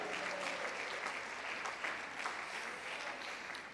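Church congregation applauding together during a Spanish-language worship service, a steady dense wash of clapping that holds at a fairly even level throughout.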